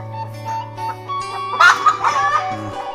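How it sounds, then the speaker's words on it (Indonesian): Several chickens cluck and chatter in a quiet rural Indonesian village yard, a steady low hum underneath and a louder burst of calls in the middle, with no talking. "ternyata si akang ini banyak ayamnya ini sahabat"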